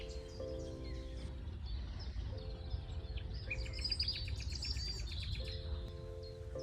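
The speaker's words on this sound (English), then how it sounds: "The one that sounds weird, that's the nightingale." Nightingale singing in daytime on the Knepp rewilding estate in the UK, repeated phrases of pure whistled notes alternating with rapid chattering trills, fairly close over soft background birdsong and insect hum.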